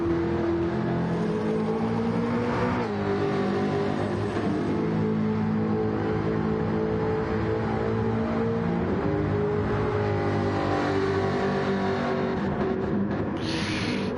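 A race car in Gran Turismo 7 at Watkins Glen drones through a steady engine roar with rising and falling revs as it passes and finishes a lap, continuous and fairly loud, with no talking.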